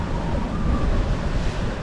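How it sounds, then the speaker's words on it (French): Steady rushing surf fills the air, a broad wash of open-sea waves about 1 metre high with some wind noise, continuous and fairly loud, with no talking. "Et les vagues"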